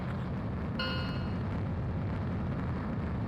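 An explosion in Ace Combat 7 lands as a dull, distant boom under a steady roar of in-game wind or engine noise, with a brief ringing tone just before it.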